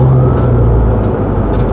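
An ambulance drives by on a street, a loud, close vehicle rumble with a wavering siren tone over it, brief and continuous.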